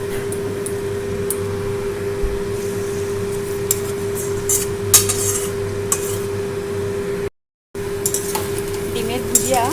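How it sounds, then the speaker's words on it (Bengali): Beaten egg frying in the same oil used earlier for prawns, a steady close sizzle with occasional clinks of a utensil against the pan and a constant background hum. "চিংড়ি মাছ ভেজে রেখে দিয়েছি, সেই তেলের মধ্যে আমি ডিমটা ভেজে নেব।"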